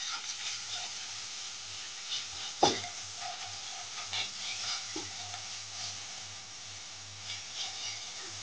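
Brahmi greens seasoned with salt and turmeric are stirred in a pan without water, a faint soft sizzle broken by occasional scrapes and clicks of the spoon against the pan.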